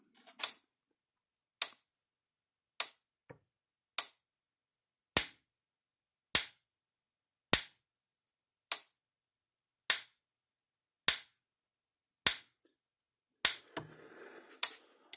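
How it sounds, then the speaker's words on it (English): A Gallagher electric fence charger throws a spark across to ground, producing a dozen sharp, loud snaps at a steady pace about a second apart, with silence between pulses. "We're going to do a little spark jump here and go across ground."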